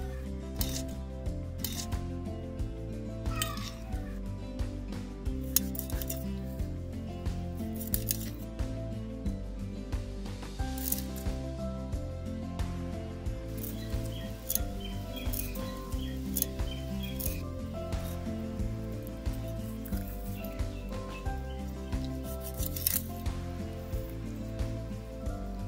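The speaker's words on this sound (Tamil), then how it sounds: "பக்கத்துல உள்ள அந்த முள்ளெல்லாம் நம்ம கட் பண்ணி எடுத்துக்கிடணும்" Garfish spines are trimmed off for frying, with repeated soft snips and clicks of cutting scattered over a steady music bed. The cuts sound close but fairly faint.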